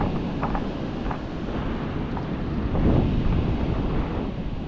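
Ocean surf on a Konkan beach during surf fishing, a steady low wash of waves under strong wind buffeting, fairly loud and continuous with no talk.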